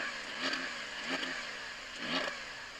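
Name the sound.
Porsche 911 Turbo S engine revving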